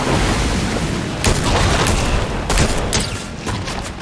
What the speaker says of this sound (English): somebody's shooting now